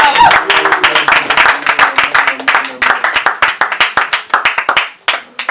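A church congregation claps loudly and rhythmically in praise, quick repeated claps filling the room, with a voice speaking and calling out over the clapping.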